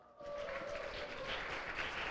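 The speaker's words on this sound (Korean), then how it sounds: "우리 남성고등학교 로고스 팀을 박수로 맞아주시기 바랍니다" An audience at a Korean high school competition applauds as a team is welcomed onto the stage, the clapping starting abruptly and holding steady and dense, with a brief tone fading under it early on.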